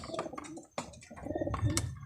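A racing pigeon, resting after a race, gives soft, low throaty coos in a short, rhythmic series, close to the microphone and fairly quiet.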